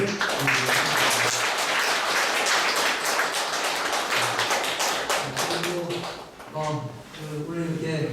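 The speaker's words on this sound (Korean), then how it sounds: "다시 한번 큰 박수를 드리겠습니다" Audience applause at a literature concert and lecture, a dense burst of clapping that swells loud then gradually thins out, with a host's voice speaking alongside.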